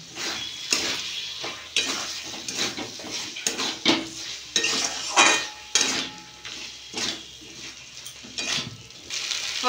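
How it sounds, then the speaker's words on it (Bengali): A spoon stirs salted stuffed pointed gourd (potol) dorma in a metal pan, scraping and clinking in an irregular rhythm against a faint sizzle, with no voices. "পরিমাণ মতো নুন দিয়ে ভালো করে আমি নেড়ে নেব"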